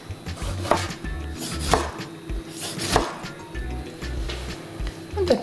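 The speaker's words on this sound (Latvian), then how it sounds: "Tomāti sagriež šķēlēs." A knife slices tomatoes on a cutting board, giving firm, regularly spaced chops that ring clearly, with no talking.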